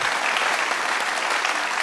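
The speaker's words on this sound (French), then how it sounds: "qu'on peut applaudir très fort" A room full of people at an amateur cycling club awards ceremony claps loudly for a young cyclocross champion, a dense unbroken wash of applause that stays at full strength for the whole moment.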